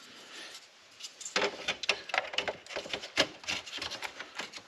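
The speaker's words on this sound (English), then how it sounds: "Let's go ahead and put our trim piece back on." A plastic dash trim piece on a Toyota 4Runner is pressed into place, producing a quick series of close, sharp clicks and snaps as its clips seat, irregular taps after a quiet start.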